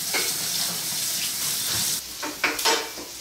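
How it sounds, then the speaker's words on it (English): Tap water splashes over freshly harvested sweet potato leaves being rinsed in a sink, a close steady gush that breaks into a few uneven bursts and pauses near the end as the leaves are shifted. "now we're gonna wash off the leaves that we harvested from the garden. Rinse off the leaves."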